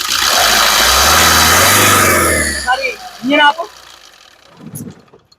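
A 2015 Maruti Suzuki Ciaz VDI diesel car engine revs loudly and steadily for a few seconds, then drops away as a person starts talking nearby.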